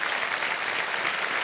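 Studio audience applause on the KBC game show, a steady, dense wash of clapping that holds at an even level for the whole stretch with no voices over it.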